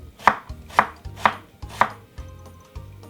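A knife chops a piece of white onion finely on a board in four crisp, evenly spaced strokes, then two softer taps, close and alone.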